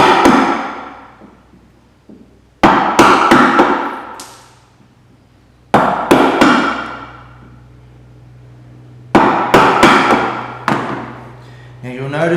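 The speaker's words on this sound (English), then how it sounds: "I'm using the side of my mallet just to take off a little bit at a time." A wooden mallet's side tapping a bevel chisel into wood to cut a rebate joint, in three bursts of sharp, loud, close knocks separated by pauses, each strike ringing briefly.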